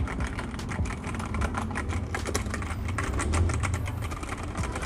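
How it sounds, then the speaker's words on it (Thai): Rapid typing on a NUBWO X28 Sorcerer gaming keyboard with quiet, light-resistance switches, close up: a dense, steady run of soft key clicks and clacks with no voices. "เดี๋ยวผมลองมากดใกล้ ๆประมาณนี้นะครับถ้าพิมพ์"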